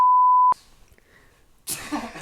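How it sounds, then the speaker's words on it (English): A censor bleep blots out a swear word: one steady, loud electronic tone lasting about half a second, then a pause and a burst of noisy background sound. "We're gonna bleep that out."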